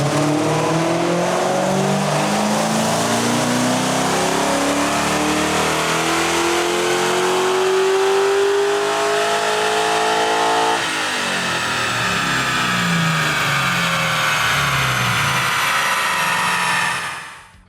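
A 2004 Ford Mustang Mach 1 with a naturally aspirated 4-valve V8 and factory 5-speed revs through a fourth-gear dyno pull, its loud engine note climbing steadily, with a sharp shift in tone near the end before it cuts off.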